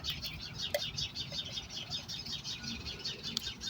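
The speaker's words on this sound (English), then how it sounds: "Can you hear the birdies up there?" Small birds chirp and tweet repeatedly in a backyard, a steady chorus of bright, high calls at moderate distance with light outdoor background noise.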